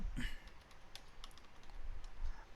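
Someone types JavaScript code on a computer keyboard, producing faint scattered keystroke clicks against a low background hiss.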